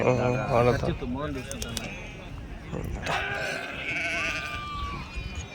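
Sheep bleating at a weekly Saturday-morning sheep market in Angallu, a few wavering bleats near the start and later, under steady talk and market chatter from people nearby.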